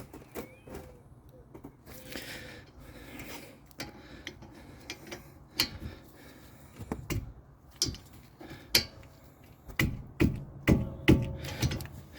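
A ratchet wrench works a rear brake bolt loose on a 2013 Ford Edge during a pad replacement: a run of sharp, close mechanical clicks in uneven bursts that grow louder and quicker toward the end.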